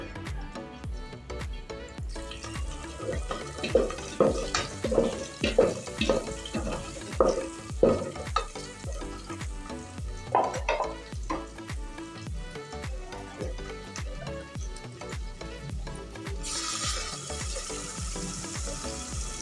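Garlic cloves frying in hot oil for a garlic curry, a continuous crackling sizzle broken by repeated scraping and clinking of a spoon stirring the pan, with no talking.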